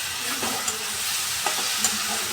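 Garlic sizzles in a hot pan, a dense crackle with a few scraping stirs, close and fairly loud.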